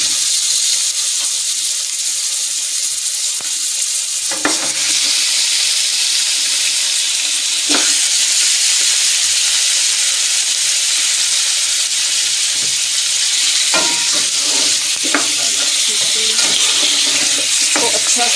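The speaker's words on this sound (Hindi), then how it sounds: "तो अच्छा सा भूनेंगे" Mutton browning in a hot karahi, a steady loud sizzle of frying meat with scattered scrapes and knocks of stirring throughout, no voices.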